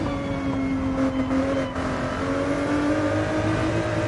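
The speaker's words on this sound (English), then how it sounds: "It's great to hear the different engine notes throughout the course of this lap." A race car engine in a racing video game lapping the Nordschleife, giving a steady, loud, sustained drone with a slowly shifting pitch that runs unbroken throughout, with no talking.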